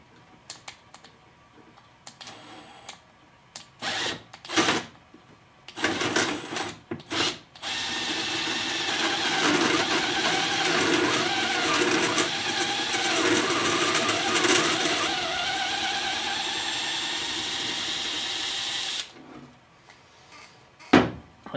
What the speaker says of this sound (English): let me set this so you can see the drilling